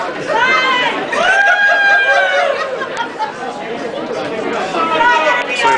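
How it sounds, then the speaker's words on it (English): Supporters at a 2011 Ron Paul campaign event in Columbia, South Carolina, chattering in a room, a dense steady babble of many overlapping voices with occasional light laughter. "So we have a pretty good crowd here today."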